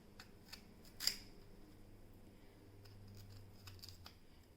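Thick raw Nendra banana peel being cut makes a few crisp, quiet snips and clicks, with one sharper cut standing out, in an otherwise hushed kitchen.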